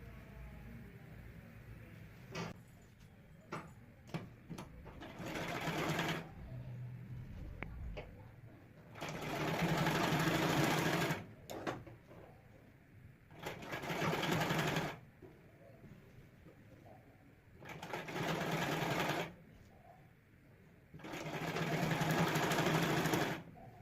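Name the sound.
sewing machine stitching the edge of a blouse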